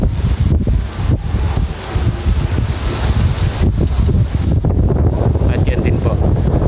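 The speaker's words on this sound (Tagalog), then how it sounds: "lakas ng hangin yan." Strong wind buffeting the microphone in a steady, loud roar at an outdoor seaside restaurant area, with low rumbling gusts throughout and faint voices beneath.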